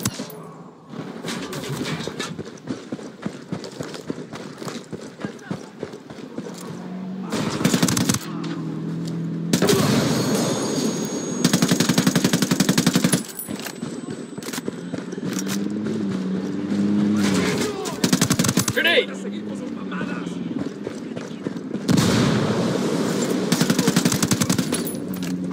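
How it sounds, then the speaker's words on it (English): Video game gunfire from Ghost Recon Wildlands, with rapid automatic bursts and single shots crackling over a dense bed of engine noise and ambient game sound, swelling and fading in loud stretches. "Taking the shot."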